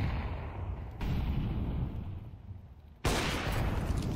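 Gunfire in Counter-Strike during a professional ESL Pro League match, with sharp bursts of shots at short intervals, each jumping out loudly over a rumbling, noisy background.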